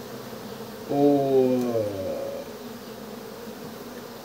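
Honeybees at an open beehive, a brief tonal buzz that swells and slides down in pitch for about a second before fading into quiet background hum.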